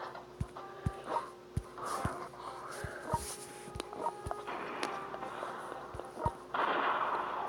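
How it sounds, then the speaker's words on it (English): Gunfire in the strategy game World Conquerors 3 hits a city near Leningrad, a regular series of sharp cracking shots spaced about half a second apart over a low game hum. "Stop shooting at my city."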